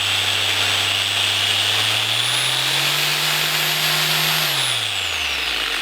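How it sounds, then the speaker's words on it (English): A FERM DSM1009 variable-speed delta sander's motor whines steadily up close, its pitch climbing as it speeds up, holding high, then dropping back down near the end. "Switch it on, listen to the engine or the motor."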